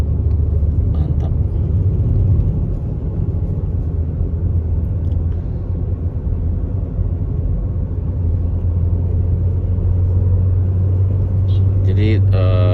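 A 2002 Peugeot 406 automatic with a twin-cam engine labours up a steep mountain road on Galunggung, Tasikmalaya, giving a steady low rumble heard from inside the cabin that deepens into a droning hum toward the end, with someone talking over it.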